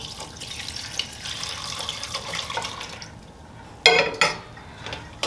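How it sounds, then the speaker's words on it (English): Pink oyster mushrooms strained out of a dye bath for wool, liquid splashing and trickling steadily, then a couple of sharper splashes and drips near the end. "Next, I'm straining out the pink oysters."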